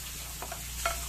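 Sliced shallots and chopped lemongrass frying in a pan for a catfish dish, a soft sizzle under a low steady hum with a few light stirring scrapes, fairly quiet.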